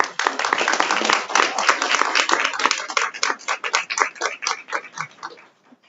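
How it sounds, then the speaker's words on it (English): Applause from an audience at a school board meeting honouring elementary school artists, dense clapping that starts full and loud, then thins into scattered claps as it tapers off near the end. "Let's give them another round of applause."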